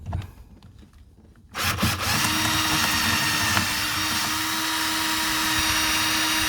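Cordless drill boring a hole while a Seat Ibiza 6L's speakers are changed, quiet handling noises at first, then the motor whirs up and runs as a steady close whine.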